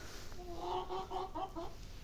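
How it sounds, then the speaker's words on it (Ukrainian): A hen's clucking calls repeat in a short rhythmic series, moderately close, over a faint outdoor hiss. "Курка закричала."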